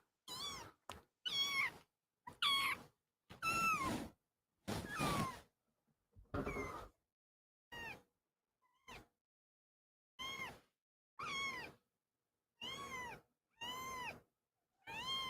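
A small kitten meows again and again, short high cries with brief pauses between them, close by with no other sounds.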